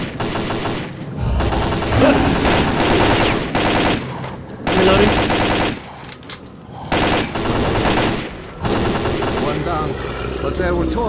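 Bursts of automatic gunfire in the shooter S.T.A.L.K.E.R.: Call of Pripyat, loud repeated volleys separated by short gaps over about eleven seconds, with voices talking between some bursts.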